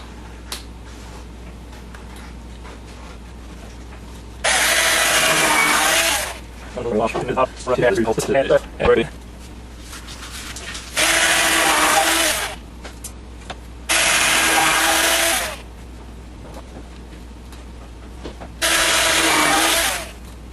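A power drill drives screws into a wood monitor shelf for an arcade cabinet, several loud whirring bursts of a second or two each separated by pauses, with a rattling stretch between the first two.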